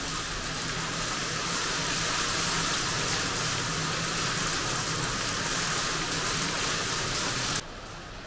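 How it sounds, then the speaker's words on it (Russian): Heavy hail pelting down outdoors in Turkey during a sudden cold snap, a dense, steady clatter of stones on surfaces lasting throughout, loud and continuous without talk, dropping off abruptly near the end. "потому что такой сильный град идет."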